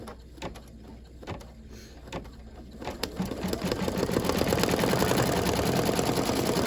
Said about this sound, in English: Now it's going to stitch an outer ring going around that ring.